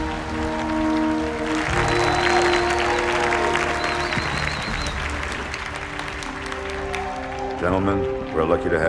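A large crowd roars and applauds steadily in a Halo 2 Anniversary cutscene, with music and scattered voices mixed in throughout.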